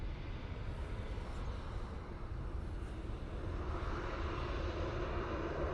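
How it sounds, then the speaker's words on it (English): An Emirates Airbus A380 taking off at full power from Manchester Airport, heard as a broad, steady engine roar from a distance that swells slightly toward the end, with no voices. "And that was power for you there from the mighty Emirates A380"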